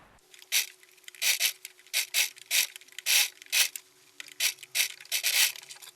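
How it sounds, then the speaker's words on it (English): A sewing machine stitches all the way around a Zara-inspired flare dress, running in a series of short, loud whirring bursts separated by brief pauses, with no talking. "So after pinning, you just want to go ahead and sew it all the way around."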